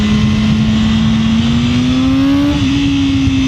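A 2024 BMW M1000R with the M Competition Package accelerates hard. It gives a loud, close, steady engine howl whose pitch climbs slowly, with no talk.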